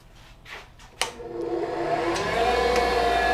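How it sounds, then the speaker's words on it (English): A grinder cleans up a forged steel bookmark in a blacksmith shop. After a few light clanks, the motor spins up at about one second into a loud, steady whine that holds to the end, with no talking. "Let's go straight back here to the grinder."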